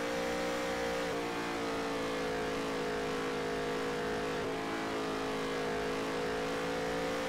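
NASCAR race car engines roaring in the NASCAR Heat video game, a steady loud drone of several cars at sustained high revs with slight pitch shifts, continuous throughout with no talk.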